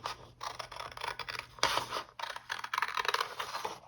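Scissors cut through a sheet of scrapbook paper in a series of crisp snipping and rasping strokes, close and fairly loud, with short pauses between bursts and no talking.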